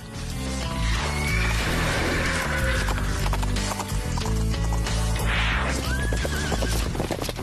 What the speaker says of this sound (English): All eyes are now on their new horse, Rocket.